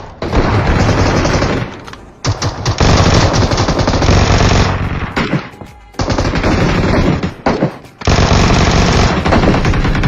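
A Vector submachine gun fires in the BGMI mobile battle royale game in loud, close, rapid automatic bursts, several long strings of shots separated by brief pauses, with no talking over them.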